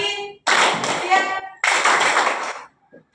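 A sixth-grade primary school class claps in a 'tepuk pagi, siang, malam' routine, two bursts of rhythmic group clapping with children's voices chanting along.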